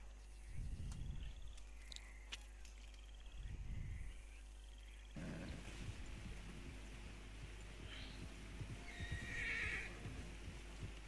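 Two low horse snorts or whinnies in Red Dead Redemption Online, then a shift to softer shuffling and faint chirping sounds over a steady low hum.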